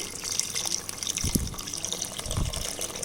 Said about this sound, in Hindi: इसमें पानी डाल रही हूँ